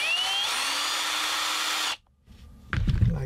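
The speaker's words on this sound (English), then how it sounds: "So what I'm gonna do is you drill this halfway, not all the way through" A power drill whines steadily as it bores halfway into PVC, the pitch dipping slightly, then stops abruptly, followed by a short pause and some handling clatter.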